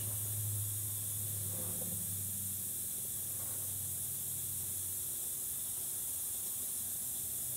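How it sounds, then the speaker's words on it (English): An ultrasonic cleaner runs through its cleaning cycle on turbine wheels in a workshop, giving a steady hissing, spray-like wash of noise with a low hum underneath, continuous and moderately quiet throughout. "Sonic cleaner is running in the background, cleaning turbine wheels."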